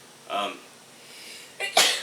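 A short sneeze-like burst, then a sharp, loud sneeze near the end, with quiet room tone between.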